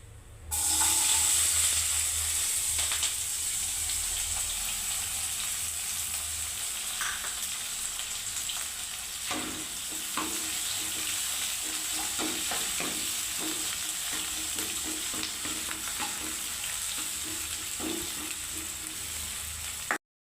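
Plenty of chopped onions fry in oil for a dried fish curry, a steady close sizzle with intermittent stirring scrapes, moderately quiet and free of speech.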